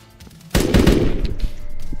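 Gunfire in the Roblox game Aftermath: a sudden loud burst of rapid automatic shots kicks in halfway through and rattles on as a dense volley to the end, close and with no talk.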